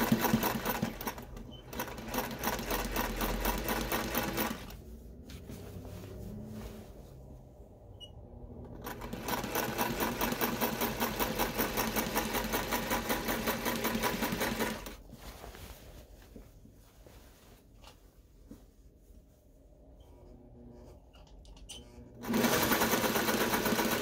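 Old sewing machine running a basting stitch through thick fabric, loud rapid mechanical chattering in long bursts separated by pauses, with occasional quiet handling noises and no talking.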